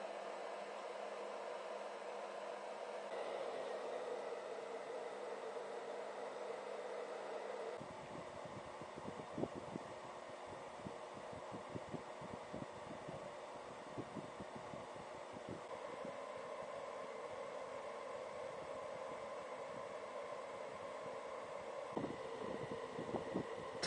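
A small fan inside a homemade juice-carton air cooler runs continuously, a steady airy whoosh and hum with a faint underlying rattle, close and unchanging throughout.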